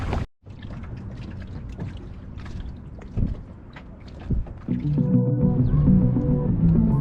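Canoe paddled on Lake Ontario along the north shore, with steady water swishes and splashes from the paddle strokes close to the microphone, over a constant wind and hull noise.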